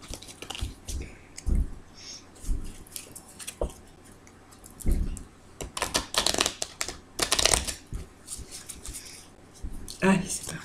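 Tarot cards being shuffled by hand up close, with bursts of riffling and soft slaps between pauses, while someone speaks French over parts of it.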